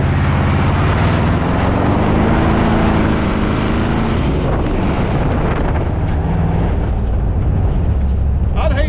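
A 1957 Ford Fairlane 500 with a 312 V8, an old abandoned car being driven in, roars loudly and continuously under heavy wind buffeting, its engine pitch shifting as it moves; no clear speech.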